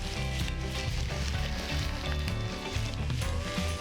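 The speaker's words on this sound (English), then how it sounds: "So I'm gonna add the mushroom to the onion and let them together be fried and get very well done." Mushrooms and onion frying together in a pan for a vegan lentil rice dish, a steady soft sizzle with light stirring, faint and continuous without any talk.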